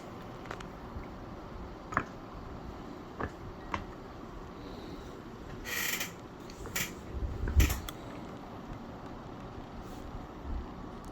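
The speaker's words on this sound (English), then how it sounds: "After finger tightening the nut, I use a 10mm socket driver to make it nice and tight." A nut being tightened onto a Jackson guitar tuner, turned with a 10mm socket driver, gives faint scattered clicks and small mechanical creaks over quiet room hiss, with a few slightly louder rattles near the end.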